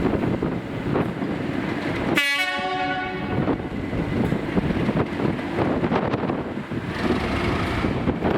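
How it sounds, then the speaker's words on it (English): Strong gusts batter the microphone beside a railway line in Scotland, a loud continuous rumble throughout, while a passing train sounds a sharp horn toot about a quarter of the way in. "the wind getting that bad that it started to shake the tripod"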